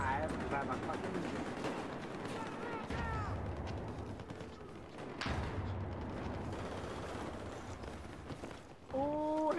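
Video game gunfire with scattered shots and short bursts over a busy battle background, mixed with an occasional whooshing tone and someone talking.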